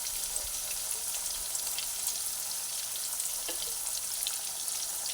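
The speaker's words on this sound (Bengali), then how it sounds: "তেলের মধ্যে কাঁকড়গুলোকে দিয়ে দিলাম এবারে আবার একই রকমভাবে হলুদ আর নুন পরে দিয়ে কাঁকড়গুলোকে ভেজে নেব" Kakrol (spiny gourd) pieces fry in oil with turmeric and salt, giving a steady, even hiss of sizzling with faint crackles throughout and a soft clink partway through, no voices.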